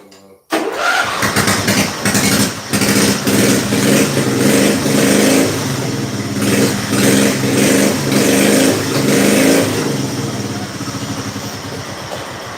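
A car engine cranks and catches after a short quiet start, then runs loud and close with repeated uneven revs and blips, easing toward a rougher idle at the end; the engine may be low on oil.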